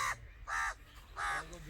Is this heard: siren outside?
no